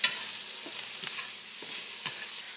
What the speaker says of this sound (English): so now we're just sauteing them up just a little bit